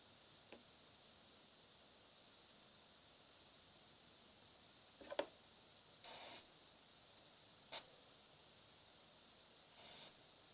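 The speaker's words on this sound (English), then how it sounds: "Put the carb cleaner straw in every hole and give it a good squirt." Carb cleaner is squirted through a straw into the holes of a string trimmer carburetor, making three or four short, sharp aerosol hisses in an otherwise quiet space.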